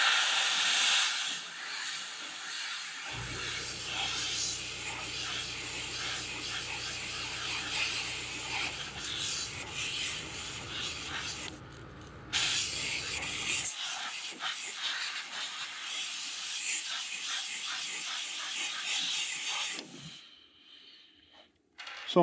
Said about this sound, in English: You just spray straight through them